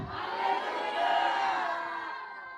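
A church congregation shouts hallelujah together in a loud, sustained crowd roar that swells, holds and fades over a few seconds.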